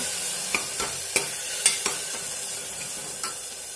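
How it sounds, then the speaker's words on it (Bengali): Tomatoes fry with salt in a cooker pot while being stirred, giving a steady broadband sizzle with a handful of sharp spoon scrapes and clicks spaced through it, close and moderately loud, with no voices. "ভালো মতন টমেটোটাকে কষিয়ে নেব।"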